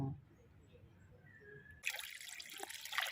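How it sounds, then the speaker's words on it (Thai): Water is poured into a bucket of rice-washing water being kept as plant fertilizer; a sudden splashing, trickling rush starts partway through, loud and close, after a quieter stretch. "แล้วก็เติมน้ำลงไป"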